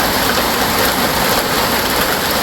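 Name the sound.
rain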